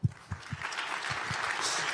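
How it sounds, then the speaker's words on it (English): Applause from a Vue.js developer conference audience swells after a few separate, close, thumping claps, then spreads into a steady crowd clapping. "Big applause for Robin and the whole team for organizing this conference."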